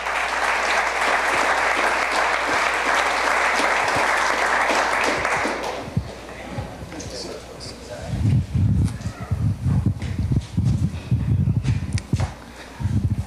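An audience at a campaign kick-off event at a farm breaks into loud, sustained applause for about six seconds, then it fades as a voice starts speaking.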